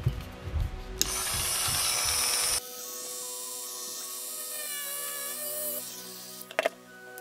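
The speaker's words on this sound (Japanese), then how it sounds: "ここの部分ですね、ここを切り取ります。" A part being cut off a Mini 4WD kit with hand tools, a near continuous grinding, whirring mechanical noise with a few brief clicks near the end, close and alone without voices.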